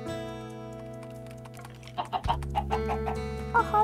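Chickens in a video game cluck in quick, short bursts, close and fairly loud, over a steady droning game background with no talking.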